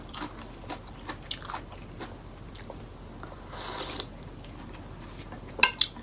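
Someone eats pounded pineapple salad, with soft, close crunching and chewing bites scattered through the clip and a sharper clatter near the end.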